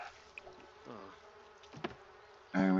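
Bees buzzing in the life-simulation game The Sims 4, soft insect drones and short buzzes drifting in and out, quiet and intermittent, ending with a louder sudden burst of sound.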